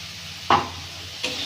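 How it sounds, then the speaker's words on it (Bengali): Spice paste with coriander leaves and salt being fried and stirred in a pan for a fish curry in a village kitchen, giving a steady low sizzle with two sharp scraping strokes of the spoon. "মশলাটা ভালো করে কষে নেব"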